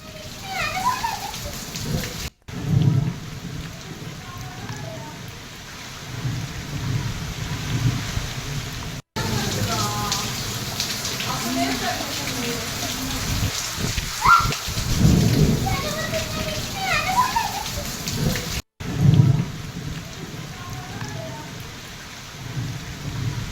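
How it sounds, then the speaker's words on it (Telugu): Heavy rain pours down in Vinukonda, Palnadu district, as a steady loud hiss with rumbles of thunder rolling through. A cat-like cry is faint in the middle, and the downpour continues with brief gaps. "పల్నాడు జిల్లా వినుకొండలో ఆదివారం భారీ వర్షం కురిసింది."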